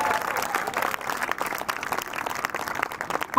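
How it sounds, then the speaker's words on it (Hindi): Thin, scattered applause from an audience at an annual function and talent award ceremony, uneven clapping of moderate loudness that rises and dips without a full roar. "तालियां कमजोर है"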